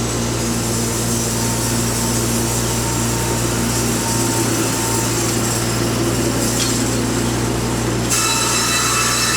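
Loud, constant drone of an L270 sawmill cutting 10-inch-wide green hemlock siding boards, a steady mechanical whine and rumble with a brief shift near the end.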